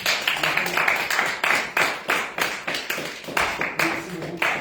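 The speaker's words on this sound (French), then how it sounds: "On va applaudir." An audience in a church assembly claps together in a steady rhythmic beat, the sharp bursts close and regular, with voices faintly mixed in.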